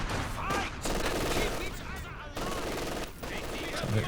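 A Panzerwerfer rocket barrage in the video game Company of Heroes 2 produces a dense, continuous rattle of rapid explosions and gunfire-like bursts. It stays loud throughout the clip, with commentators talking over it.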